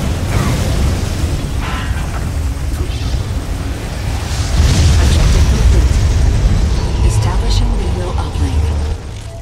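Ion cannon strike in Command and Conquer 3 Tiberium Wars, a loud, sustained rumbling blast that swells midway and holds for several seconds before easing off.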